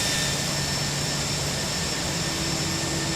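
Jet engines of an Airbus A319 running in the X-Plane 11 flight simulator, a steady loud roar and whine held without change, with no voices.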